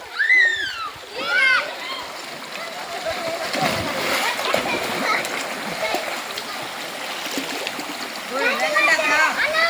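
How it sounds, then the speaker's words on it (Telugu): Water runs and splashes steadily at a small roadside mini waterfall on a shortcut path, a constant close rushing wash with children's voices calling out at the start and end. "ఆ దారి వైపు దారి పక్కన ఈ మినీ వాటర్ ఫాల్ ఉంది"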